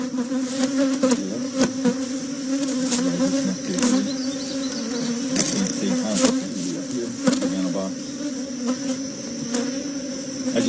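Honeybees buzzing around open hive frames in a nuc yard in July, a loud, close, continuous drone with individual bees zipping past, and a voice speaking faintly underneath.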